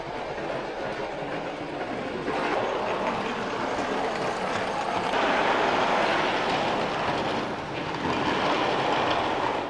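Model railway trains run on a display layout inside a barber shop that doubles as a railway museum, giving a steady, continuous rolling clatter with no voices.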